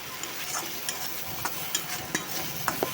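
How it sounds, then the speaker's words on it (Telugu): Garlic and coriander seeds fry in hot oil for a garlic chutney, giving a steady sizzle broken by sharp, repeated clinks of a spoon stirring the pan at close range. "ఆ వెల్లుల్లి, ఆ ధనియాలు అవన్నీ బాగా ఏమైనా పచ్చి ఉంటే బాగా ఇలా నూనెలో వేగుతుంది"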